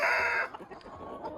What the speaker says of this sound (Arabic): هذا الديك ديال الدجاج الفرنسي ما شاء الله تبارك الرحمن.